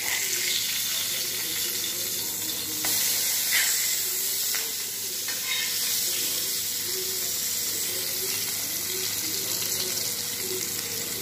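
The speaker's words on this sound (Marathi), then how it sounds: "पापलेट आता दुसऱ्या बाजूने सुद्धा फ्राय झालेला आहे" Pomfret fish frying in a pan with a little coriander on top, a steady, dense sizzling hiss that stays fairly even throughout with faint small crackles, no voices.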